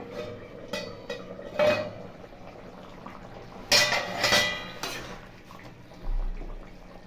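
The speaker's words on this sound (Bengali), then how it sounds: "ঢাকনাটা খুলে দেবো।" Several metallic clanks and scrapes of a lid against a pot, close up, with a soft bubbling of potatoes and cauliflower boiling in the background.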